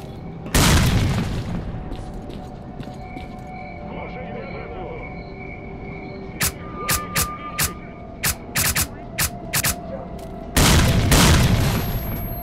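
Grenade blast in the shooter S.T.A.L.K.E.R. Clear Sky: a loud broadband boom near the start and another near the end, with sharp gunfire-like pops between them over a rumbling game backdrop.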